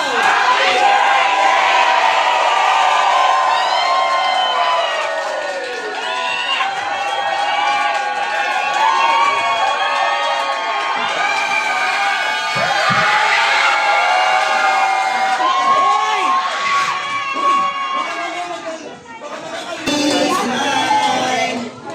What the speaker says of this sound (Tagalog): Tapos palakpakan may kasamang sigawan.